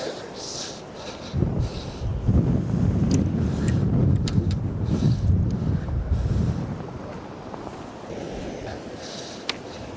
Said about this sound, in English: God, it's windy though.